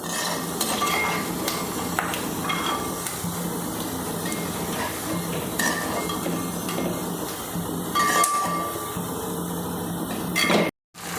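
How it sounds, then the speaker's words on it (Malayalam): Prawns frying in a pan for prawn pickle, a steady dense sizzle with intermittent metallic scrapes and clinks of a utensil against the pan, continuous and close throughout, ending abruptly just before the close. "ഇപ്പോൾ നമ്മുടെ ചെമ്മീൻ മുരിഞ്ഞുകൊണ്ടിരിക്കുന്ന സെക്കൻഡ് ട്രിപ്പാണ്"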